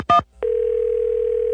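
A telephone call starts with a short burst of keypad tones, then a steady, loud dial or ringback tone holds unbroken for about a second, close and clear with no talking.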